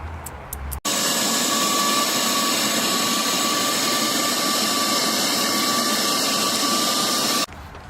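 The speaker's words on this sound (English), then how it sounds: "Got the vacuum? Probably vacuum it, huh?" A vacuum cleaner roars loudly and steadily for several seconds, switching on abruptly near the start and cutting off near the end.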